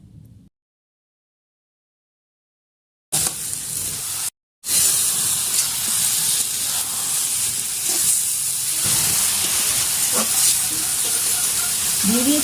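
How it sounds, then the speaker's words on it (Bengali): Chicken with turmeric and spices stirred in a hot frying pan, a loud steady hiss and sizzle with scraping stirs, starting after a few seconds of near silence. "এরপরে সবগুলো একটু নাড়াচাড়া করে নিব।"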